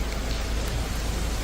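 Steady rain falling without break over the Terai region near the Gandak barrage at Valmiki Nagar, a dense, even hiss with a low rumble that holds constant throughout.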